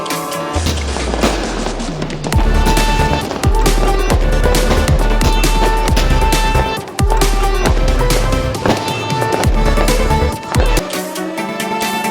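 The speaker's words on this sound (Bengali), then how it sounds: "বাজি ফাটাতে ফাটাতে হাঁপিয়ে গেছি, প্রচুর বাজি ফাটানো হয়ে গেছে" Firecrackers and fireworks burst during Kali Puja celebrations, loud sharp bangs and crackling volleys following one another rapidly and densely, with brief pauses between bursts.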